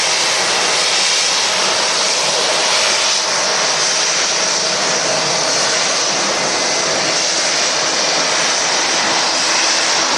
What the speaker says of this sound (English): Used a lot of runway, the Dreamliner did.